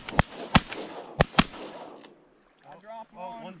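Four sharp shotgun blasts ring out during a public-land duck hunt, loud and close in an irregular burst, each trailing a short outdoor echo, followed by people talking briefly.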